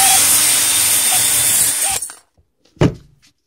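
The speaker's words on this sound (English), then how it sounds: "I'm just gonna clean this up with the wire wheel." Wire wheel on a power tool cleaning the threads of a Suzuki SX4 brake caliper: a loud, harsh, continuous grinding whir for about two seconds, then it cuts off, followed by a single sharp knock.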